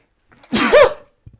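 One loud, close human sneeze, a quick sharp burst that trails off, alone in an otherwise quiet room.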